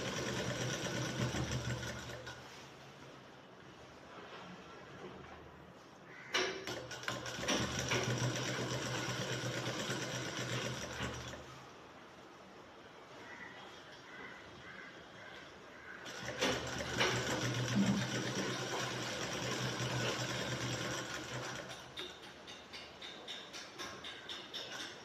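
Sewing machine stitching along the canvas edge of a shirt collar, running in long steady stretches of mechanical whirring with brief pauses between passes, close and fairly loud.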